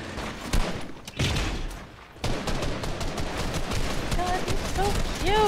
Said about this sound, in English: stop shooting! Stop shooting! Stop shooting!